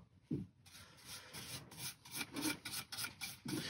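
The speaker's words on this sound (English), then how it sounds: "before we start the next coat, we're always going to rub it down with a bit of wire wool" Turned yew wood being rubbed down with wire wool, a soft raspy scrubbing in repeated strokes, close and fairly quiet, with no talking.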